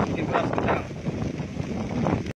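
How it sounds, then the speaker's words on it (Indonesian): Strong wind buffets the microphone in a continuous roar, with rustling gusts throughout, near an area of burned land by a road. It cuts off abruptly just before the end. "Angin bikin keras sekarang."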